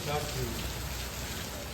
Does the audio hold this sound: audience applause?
no